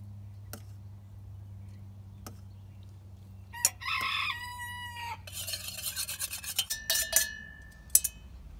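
Chickens crow and cluck in a farmyard, one rooster-like call rising mid-clip followed by several overlapping bursts of clucking and squawks, moderately near over a low steady hum.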